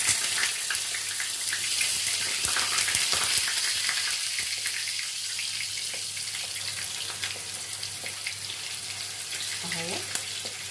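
Eggplant slices sizzle in hot oil in a pan, a steady, bright crackling hiss that holds nearly unbroken, with a light clink of utensils near the end.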